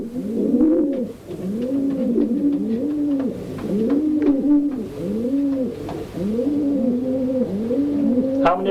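Racing pigeons coo in a loft, a steady overlapping chorus of rolling, repeated coos close to the microphone, with a brief sharp call near the end.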